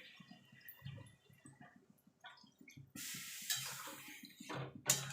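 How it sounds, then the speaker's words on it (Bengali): Water goes into a pan of flat bean and potato curry, with a soft splash and a steady pouring hiss near the end, after quieter clinks and stirring. "এবার জল দিয়ে দেবো।"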